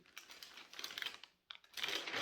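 Plastic packet of beads handled at close range, giving light crinkling and rustling in short bursts with a brief pause midway, quiet overall and with no talking.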